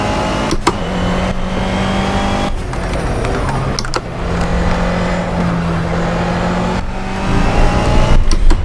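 A loud racing car engine in the video game Project Cars drones at high revs during a launch, with steady tone shifts as gears change and brief clicks and clacks over the constant whine.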